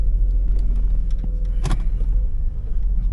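1997 Chevrolet Camaro T-top idling in reverse gear at an auto wrecking yard, a deep steady engine rumble up close with a brief clunk partway through.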